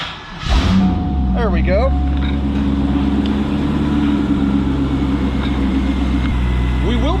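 A 2000 Chevrolet C5 Corvette's 5.7 liter LS1 V8 with 52,906 miles cranks and catches, then settles into a loud, steady, rumbling idle close by, with a brief spoken remark over the start.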